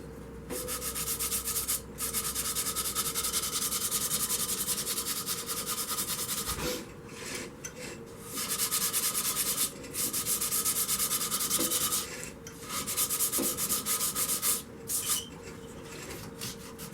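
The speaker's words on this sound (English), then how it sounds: "Make sure I got the right sandpaper here. 220. I'm just going to sand it." Steady hand sanding of a turned mahogany candy dish with 220-grit sandpaper: a continuous, close, hissy rubbing that runs in long strokes, broken by a few short pauses, with no talking.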